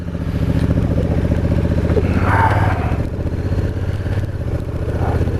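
Honda CRF1000 Africa Twin DCT motorcycle engine rumbling steadily at close range, a deep continuous roar with a brief swell partway through, no talking over it.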